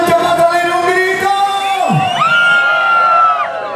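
A loud carnival crowd at a neighborhood celebration shouts, whoops and cheers in a sustained roar, with children's yells and a long rising collective cry lasting several seconds.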